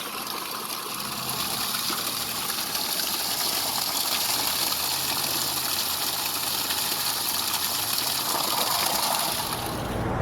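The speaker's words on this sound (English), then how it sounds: "the water comes out from the pipe, and filling up my water buckets for the RV." Spring water gushes steadily from a pipe into buckets being filled at an outdoor spring, a continuous close, full rushing splash with no talk.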